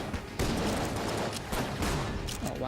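Rapid gunfire from a strong gun in the bullet-hell video game Enter the Gungeon, a loud burst of overlapping shots with short breaks and renewed volleys, no talking.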